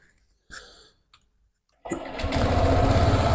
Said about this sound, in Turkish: Hemen kontağımızı da bir çalıştıralım ve motorumuzun da sesini bir duyalım.